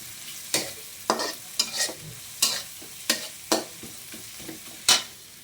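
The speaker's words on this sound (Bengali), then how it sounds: "লাল নাড়তে নাড়তে ভাজতে ভাজতে লাল হয়ে যাবে।" Garlic fries in a pan and is stirred, about ten rhythmic scraping strokes of a spoon rising over a soft continuous sizzle, close and clear with no talking.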